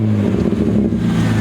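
A BMW E36 328i convertible engine, close and very loud, holds a deep steady growling rev with strong low rumble throughout a short burst.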